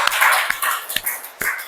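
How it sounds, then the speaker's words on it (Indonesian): Schoolchildren clap together in a classroom during a lesson, a few loud, sharp unison claps spaced about half a second apart over a noisy background of young voices. "nanti ya tepuk tangan semuanya"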